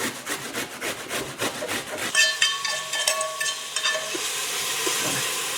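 Grated onion sautéing in a pan over low heat gives a steady soft sizzle, preceded by rhythmic scraping and stirring strokes against the pan, close and alone without talk.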